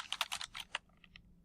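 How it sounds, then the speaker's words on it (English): Rapid burst of keystrokes on a computer keyboard during network troubleshooting, several crisp clicks close together, then a few sparser, quieter taps trailing off. "typing and talking is hard."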